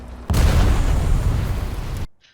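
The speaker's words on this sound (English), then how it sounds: "There's also a bomb on my head." Loud, close explosion roaring for nearly two seconds as a bomb hits a tank in a tank battle game, then cutting off abruptly into quiet.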